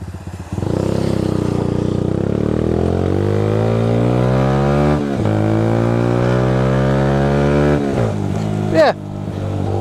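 Engine of a 2012 Yamaha YBR 125 motorcycle while riding, rising in pitch through the gears as it accelerates, with a couple of shift dips, loud and close beneath the rider's talk.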